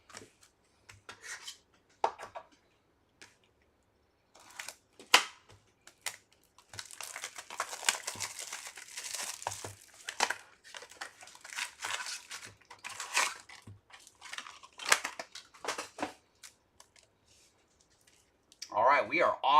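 Marvel Masterpieces trading card boxes and packs are torn open close by, with sharp rips, crinkling wrappers and rustling cardboard in irregular bursts, broken by brief quiet gaps and a few speech-like sounds near the end.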